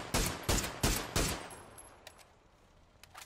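Four sharp gunshots in quick succession ring out in a shooting video game, each loud crack trailing into a brief echo, followed by a quieter stretch with a few faint distant shots.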